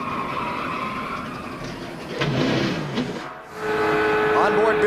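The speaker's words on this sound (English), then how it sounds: "Listen to the engine." Stock car engines roar during the 2002 Daytona 500, a loud continuous drone that dips briefly near the end before surging back, with voices talking over it.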